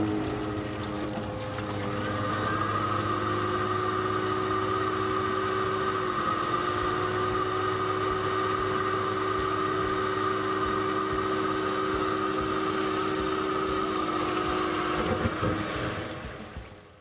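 A Willy Vac vacuum unit, used to vacuum up water and pump it out, runs its motor as a steady, even drone with a tonal hum. It starts within the first two seconds and holds constant, with no talk.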